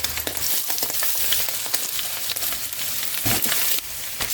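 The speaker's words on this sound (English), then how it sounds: "Fry eggs, bacon, add the onion and the other vegetables, then the rice." Eggs, bacon, onion and mixed vegetables sizzle loudly in a pan for egg fried rice, a dense continuous crackle close by with occasional stirring scrapes, and no voices.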